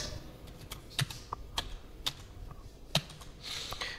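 Keys tapped on a computer keyboard as a short word is typed, a run of light, irregular clicks heard close up with no talking.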